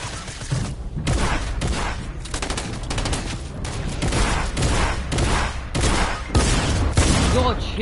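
Rapid bursts of gunfire from the Fortnite video game, dense and continuous across the whole stretch, with a voice talking over the shooting at times.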